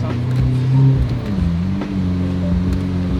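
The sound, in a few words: V12 sports car engine revving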